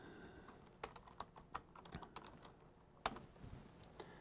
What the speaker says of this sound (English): And you're going to type in your name.